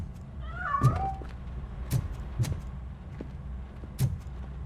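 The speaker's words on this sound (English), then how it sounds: "That cat must be hiding inside." A cat meows in the Robocop Rogue City video game, one clear meow near the start followed by several short, soft thumps or footfalls over a steady low background hum.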